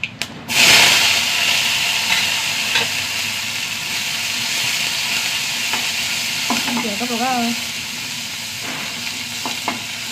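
Curry leaves, dried red chillies and small shallots hit hot oil in a pan with a loud, bright burst of sizzling that settles into a steady crackling fry, broken by a few spatula clicks near the end.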